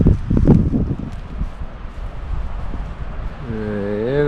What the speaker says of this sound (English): And it's really windy up here in northern Michigan today.